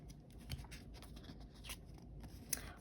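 Scissors cutting paper while making watercolour mark-making pieces, a few quiet, brief snips over a faint background hum, close by with no voices.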